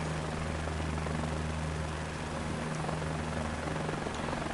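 A helicopter flies steadily in Microsoft Flight Simulator 2024, its rotor and turbine forming a constant droning hum with a low tonal thrum, moderately quiet and unbroken, with no voices.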